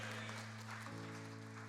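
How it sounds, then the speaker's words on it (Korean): A congregation claps during a Korean Sunday church service. Dense applause sounds over sustained organ or keyboard chords, with the music shifting partway through. "우리 하나님께 감사와 영광의 박수 올려드립니다."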